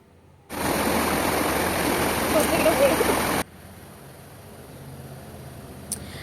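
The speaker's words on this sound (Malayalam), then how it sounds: "വെള്ളം നല്ല സ്ട്രോങ് ആയിട്ടായിട്ട് വരുന്നത്, നല്ല സൗണ്ടാണ്" Loud, broadband rushing of a small waterfall swollen by rain fills the first few seconds, then cuts off abruptly, leaving a quieter watery background.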